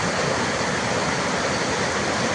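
Floodwater rushing in waves through Panjaura village near Garhshankar in Hoshiarpur, Punjab, a loud, dense, unbroken roar of water heard close without pause.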